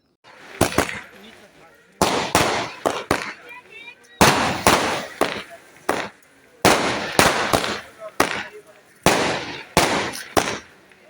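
Fireworks crackle and bang in repeated bursts at a wedding anniversary celebration, sharp loud pops clustered in groups with short gaps between, close by.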